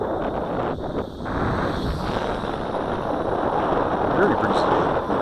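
Steady wind buffets the microphone outdoors during a drone flight test, a broad continuous roar with slight gusting swells throughout.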